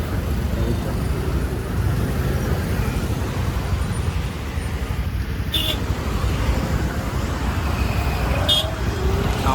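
Heavy road traffic en route from Vellore Katpadi toward Goa, a steady loud roar of engines and tyres with two brief car horn toots standing out over the constant noise.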